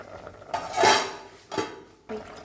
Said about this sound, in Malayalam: ഈ നമ്മൾ അരിഞ്ഞു വെച്ച തക്കാളി ഉള്ളിയൊക്കെ ഇതിലേക്ക് ചേർക്കാം